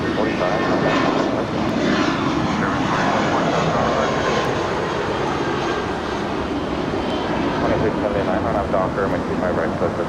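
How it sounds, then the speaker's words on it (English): A seven-year-old Spirit Airlines A320 jet airliner at Los Angeles airport roars steadily and loudly throughout, a broad sustained engine rumble with voices faintly beneath it. "That's Spirit Flight 2445 to San Jose del Cabo. 7-year-old A320."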